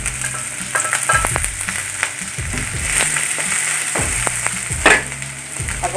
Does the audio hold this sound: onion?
yes